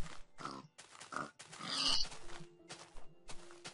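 Pig grunts and oinks from the Minecraft video game repeat in short bursts over a busy layer of game sounds, moderately loud and close.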